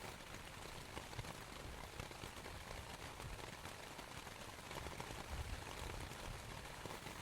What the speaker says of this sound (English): The gentle pitter-patter of rain on the tent's roof is such a calming sound.